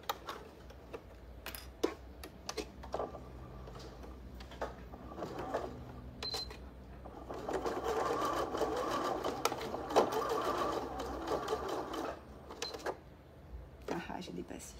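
A sewing machine stitches fabric at a live couture session in a Montpellier shop, its needle whirring in bursts that swell into a sustained run midway, with someone talking throughout.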